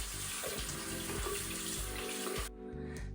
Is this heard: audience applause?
no